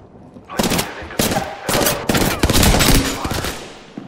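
Hemlock burst assault rifle fire in Apex Legends: loud, sharp bursts of rapid shots, repeated in quick clusters over about four seconds, close and punchy with game effects in between.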